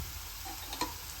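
Boiled kabuli chickpeas are stirred in a pan, giving a brief, faint soft scraping and light sizzle with a single small clink near the end.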